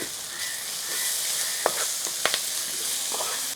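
Prawns sizzle in hot oil with masala and curry leaves, a steady frying hiss with a few sharp spatula scrapes as the pan is stirred, close and fairly loud with no talking.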